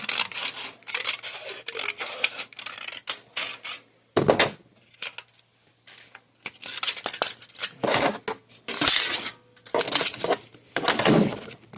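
Scissors trimming the edge of an aluminum pop can, a series of close crisp snips and metallic crunches in irregular bursts with short pauses.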